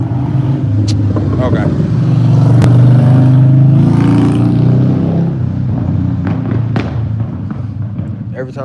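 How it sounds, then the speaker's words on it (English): A loud car passes close by on a street, its engine rumble swelling and then fading over several seconds, with someone briefly speaking over it. "some loud ass car come by"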